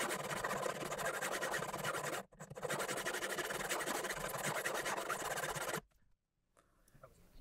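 Abrasive tool rasping along the frets of a Washburn guitar during a fret-leveling setup, a steady close scraping that runs for a couple of seconds, breaks off briefly, then continues before stopping into near silence.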